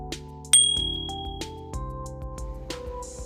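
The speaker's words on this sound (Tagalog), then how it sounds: "pindutin ang notification bell" A bright notification bell ding rings out once, clear and ringing, then fades over a steady sustained tone and a few soft clinks.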